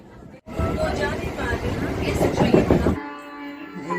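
Rumbling interior of a moving train carriage, a steady low drone with rattling, while people talk nearby; the rumble eases toward the end.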